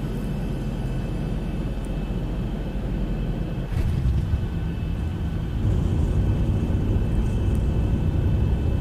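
Boeing 737 (Zibo model) touching down at London Heathrow in a flight simulator, a steady broadband roar of engine and airflow that thickens after a thump midway, then grows slightly louder, with no voices.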